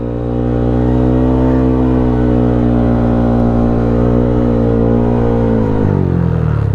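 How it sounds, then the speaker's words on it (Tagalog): A Yamaha Aerox 215cc motor scooter engine runs loud and close with a steady droning hum, and its pitch falls near the end as it eases off, with no voices over it. "Ang ingay ng motor natin."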